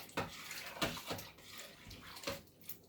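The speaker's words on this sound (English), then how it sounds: "onion, carrots, roll them in. Give it a stir." Onion and carrots are stirred into a pot of pea and ham soup, making a few soft, wet sloshing swishes at an irregular pace, close and quiet, with no speech.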